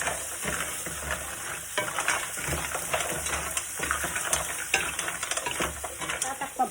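Mussels being stirred in a pan with cooked onion, ginger and garlic, a steady scraping and clinking of shells against metal over a soft sizzle, running throughout with no talk.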